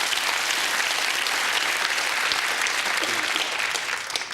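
A TV game show studio audience bursts into dense, loud applause, a continuous wall of clapping hands that stays strong throughout before easing off slightly at the very end.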